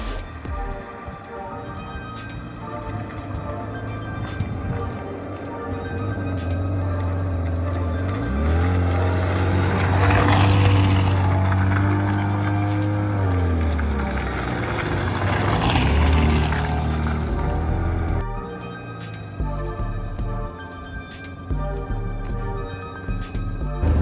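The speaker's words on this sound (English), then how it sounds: "it's very loud because there is a blow in the exhaust" Mazda MX-6 V6 with a blowing exhaust leak, loud and close, idling then revving up twice in long rises and falls, a raspy, burbling drone throughout.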